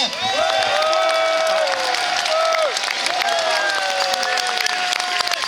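Audience applause at a speaking event, a steady wash of clapping that holds for several seconds with some voices and cheering mixed in over the clapping.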